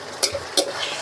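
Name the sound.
pork loin frying in hot oil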